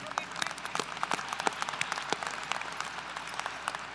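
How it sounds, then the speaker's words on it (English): A college fall commencement audience applauds, a moderately distant crowd of scattered, uneven claps with frequent sharper individual hits, continuing for several seconds. "Yes, that's worth applauding as well."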